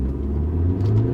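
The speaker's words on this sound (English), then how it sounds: "I put my foot on the pedal and it took around 1 second for the power to come in" A 2020 Mercedes-Benz GLE 350 SUV in sports mode gives a low, steady engine rumble heard from inside the cabin, a brief continuous drone that rises slightly toward the end.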